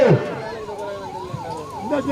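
An ambulance siren wails in a rising and falling pattern at a Manjuvirattu bull-taming event in Veezhimar, steady and fairly close beneath crowd noise and someone talking over a loudspeaker.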